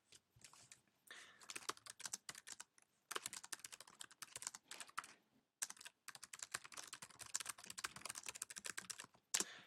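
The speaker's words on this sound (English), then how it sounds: "And then we can begin typing the body of our text." Fingers type on a Mac keyboard in quick bursts of clicking keystrokes separated by short pauses, close and clear, with no talking.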